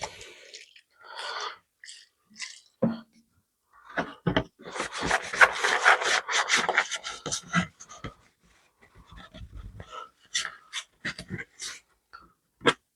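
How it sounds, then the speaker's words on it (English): A scrap piece of Perspex plexiglass from an old shed window is sanded by hand in short, irregular rasping strokes, close and moderately loud with quiet gaps between passes. "give everything a quick sand down"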